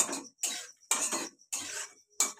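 A spoon stirs cinnamon and black pepper through melted butter and oil in a cooking pan, making five short scraping, clattering bursts with brief pauses between them.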